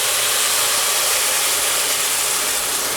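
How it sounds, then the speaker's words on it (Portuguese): Hot water poured slowly into a hot pan of white rice over lowered heat, giving a steady loud sizzling hiss that holds evenly throughout. "Eu venho com a água quente aqui, vou baixar o fogo, tá?"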